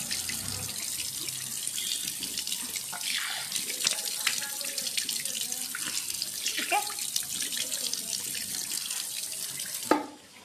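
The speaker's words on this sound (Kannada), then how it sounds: "ಫಸ್ಟು ನಾನು ಮುಖ ವಾಶ್ ಮಾಡ್ಕೋತೀನಿ" A face being washed under a running tap, a steady close stream of water with splashing and dabbing through it, ending in a sharp knock as the flow stops.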